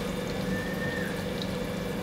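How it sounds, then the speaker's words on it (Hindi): Water running into bread uttapam batter with chopped onion, capsicum and tomato, a steady close trickle and splash heard alone without talk. "और हम अब मिलाएंगे इसमें थोड़ा सा पानी"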